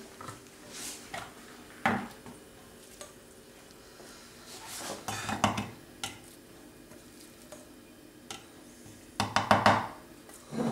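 Dishes and utensils clatter while a kitchen is cleared after tomato tapenade is made, with scattered clinks and knocks in irregular bursts, a louder cluster near the end, over a quiet background.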